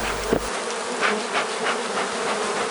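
A swarm of bees buzzing close by, a continuous droning hum with small rises and falls in intensity and no voices.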